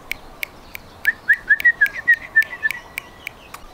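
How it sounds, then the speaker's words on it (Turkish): Birds call outdoors in tropical Hawaii: a quick run of bright whistled chirps over a steady series of sharp ticking notes, fairly close with no talking. "İnanılmaz çeşit kuş sesleri"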